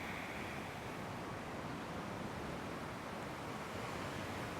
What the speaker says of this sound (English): And again, that ocean.